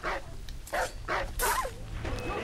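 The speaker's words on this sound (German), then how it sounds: "diese Hunde in Assassin's Creed, die sind so nervig" Dogs in the game Assassin's Creed III bark in a series of about five sharp barks, one rising into a yelp, fairly close over a low background rumble.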